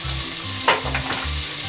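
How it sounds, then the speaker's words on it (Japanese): Oil sizzles steadily in a pan as carrot pieces fry, with a brief stirring scrape partway through; a low hum pulses on and off underneath. "人参からね、焼いていきます。"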